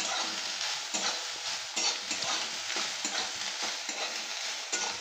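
Soybean chunks frying in hot oil for begun barbati while being stirred, a steady close sizzle broken by repeated scraping strokes of the spatula in a rhythmic pattern, with no talk.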